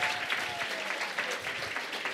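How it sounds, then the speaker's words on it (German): Audience applause from a crowd, steady dense clapping throughout at moderate loudness, with no one speaking over it. "Die Leute klatschen."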